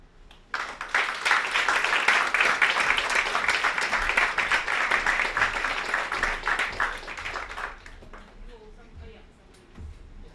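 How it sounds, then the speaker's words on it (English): An audience applauds after a talk about the struggles of international students. The clapping is dense and sustained, then thins out and fades toward the end. "Can we get another round of applause, please?"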